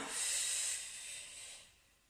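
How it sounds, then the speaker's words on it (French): A single long, soft, airy exhale during a Pilates stick exercise, close and faint, swelling and then fading away. "Et j'expire."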